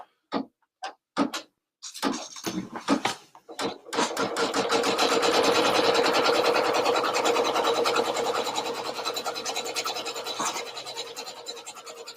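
An embroidery machine sews a placement stitch: a few separate taps and short bursts, then a steady, fast, buzzing run of needle strokes that continues to the end.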